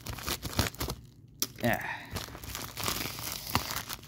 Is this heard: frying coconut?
no